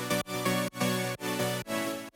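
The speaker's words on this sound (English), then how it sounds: "I have some more like super saws, more typical sounds like this" Bright, dense super saw synth chords programmed in FL Studio, struck in four sustained stabs with long release tails that blur into each other. The stabs are loud and close, with no voice over them.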